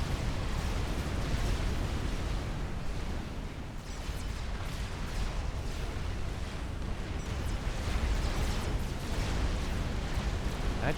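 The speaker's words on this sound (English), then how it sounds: "still suffering pretty heavily thanks to this Galaxy bombardment" Galaxy bomber bombardment in the strategy game Supreme Commander, a dense, continuous roar of overlapping explosions and rumbling blasts, loud and sustained throughout.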